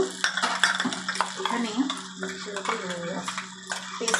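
A spiced paneer mixture with salt, sugar, Kashmiri chilli and turmeric is stirred in a pan, a spoon scraping and clinking steadily against the metal while a voice talks over it.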